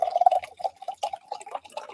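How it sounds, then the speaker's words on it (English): Boston tea pours into a cup in short, uneven trickles and drips, with brief pauses between small splashes, close and fairly clear. "Pour that Boston tea so it's nice and poured."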